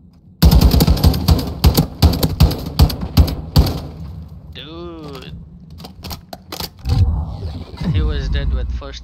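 Rapid bursts of gunfire from Call of Duty Modern Warfare II ranked multiplayer, loud sharp volleys of shots packed through the first few seconds, then sparser game effects with a voice talking over them.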